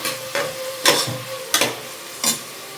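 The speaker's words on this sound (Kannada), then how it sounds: "ಈರುಳ್ಳಿ ಇವಾಗ ಚೆನ್ನಾಗಿ ಫ್ರೈ ಆಗಿದೆ ಟೊಮೊಟೊ ಇದೆಲ್ಲ ಒಟ್ಟಿಗೆ ಹಾಕೊಂಡು ಚೆನ್ನಾಗಿ ಫ್ರೈ ಮಾಡ್ಕೊಬೇಕು" Onions and tomatoes frying together in a pan, stirred in a few distinct scraping strokes over a low steady sizzle, close and moderately loud, with no talking.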